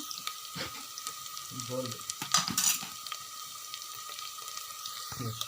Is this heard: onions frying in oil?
yes